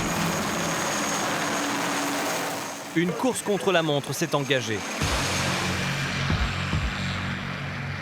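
Military helicopter arriving to evacuate wounded soldiers during an operation in the Sahel, a continuous rotor and engine roar filling the background while a voice speaks over it partway through.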